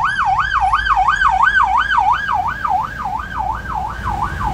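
Ambulance siren wailing loud and close on a street in Cúcuta, a fast, steady up-and-down warble repeating over low traffic rumble, with no voices.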